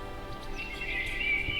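A short, high whinny from a horse plays as a game sound for the horse token in Monopoly, rising and trailing off over about a second and a half, alone and fairly quiet.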